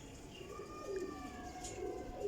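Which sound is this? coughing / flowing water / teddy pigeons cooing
teddy pigeons cooing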